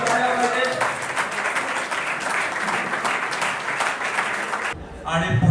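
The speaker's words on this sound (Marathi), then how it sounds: "जोरदार टाळ्यांचा आवाज हा होत राहिला" Loud, dense applause from an audience at a coastal cyclothon prize ceremony in Kudal, Sindhudurg, rolls on steadily for several seconds, then cuts off abruptly near the end.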